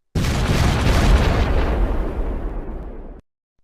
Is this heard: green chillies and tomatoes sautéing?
no